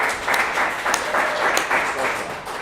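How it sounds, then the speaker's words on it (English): A brief, soft golf clap from a small group at an indoor sales meeting, a short patter of scattered light claps with no voices over it. "Golf clap."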